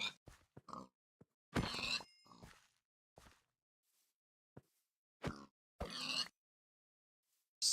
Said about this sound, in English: So many pigs.